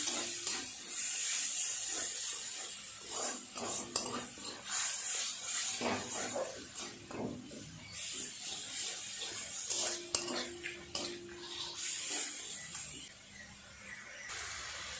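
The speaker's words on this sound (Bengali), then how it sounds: "এক চামচ পরিমাণ লঙ্কা আর জিরের গুঁড়ো এক চামচ অল্প একটু জল দিয়ে মশলাটা খুব ভালো করে কষিয়ে নিন" Chilli and cumin spice paste with a little water being stirred in a pan: a soft hiss of steam under repeated scraping and clinking of a utensil against metal, with some quiet talk.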